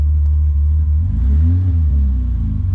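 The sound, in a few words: BMW E30 engine revving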